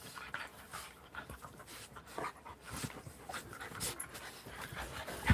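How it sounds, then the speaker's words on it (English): A dog pants quickly and steadily close by, with a few soft whimpers and rustling, no clear barks. "Dahlia, quit your barking."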